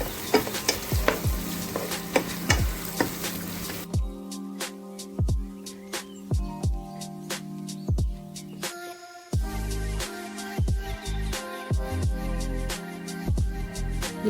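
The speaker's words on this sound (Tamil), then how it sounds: "ப்ரௌன் கலர் வர வரைக்கும் இதை நல்லா வதக்கி எடுத்துக்குவோம்" Long-sliced onions sautéed in a pan until brown for chicken biryani, with a steady close sizzle broken by repeated scraping and stirring strokes of a spoon against the pan throughout.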